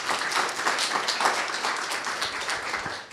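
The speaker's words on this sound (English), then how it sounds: "Give a big round of applause, please." Audience applause at a cyber meetup, steady and moderately loud clapping from a room full of people, continuing for about three seconds before tapering at the end.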